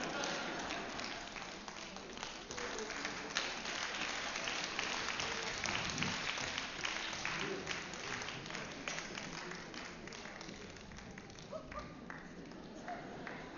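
Audience applause after a concert where a costumed mascot performed with piano and marimba players: steady, dense clapping from a crowd, fairly close and even in loudness throughout, with some voices mixed in.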